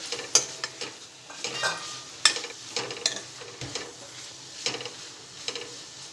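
Spinach sautéing in a pan with masala, a quiet low sizzle broken by frequent sharp clinks and scrapes of a spoon stirring against the pan, close by and with no voices.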